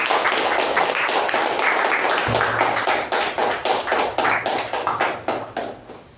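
A room full of people at a Toastmasters club meeting gives a loud round of applause to welcome the master of ceremonies. Dense clapping gradually settles into slower, more distinct claps and fades out at the end.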